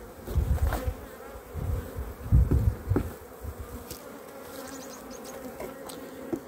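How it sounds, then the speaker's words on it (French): Honeybees buzzing during a hive inspection of a colony on eight frames, a soft, steady swarm hum with individual bees droning close past at intervals. "Avec 8 cadres bien blindés d'abeilles."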